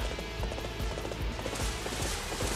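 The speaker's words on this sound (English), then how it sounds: "Oh, white horse." Horse hooves clip-clop in rapid, steady rhythm in the video game Dynasty Warriors 8, fairly quiet and close, with no talking.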